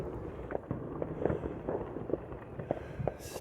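Distant fireworks bursting over a ridge line at night, a steady scatter of soft booms and crackles spread across the whole stretch, faint and far off with no voices.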